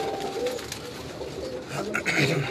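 Pigeons on a Karachi rooftop coo softly over a low background hum, a few soft calls rising near the end.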